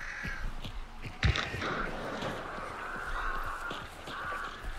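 Crows caw and flap in the game Hunt: Showdown, a scattered flurry of harsh calls with a sharp knock partway through, moderately close and continuous over a rustling outdoor background, with no talk.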